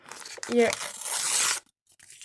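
Paper packets tear open with a crisp ripping and crinkling sound, close up, ending abruptly, followed by faint rustling.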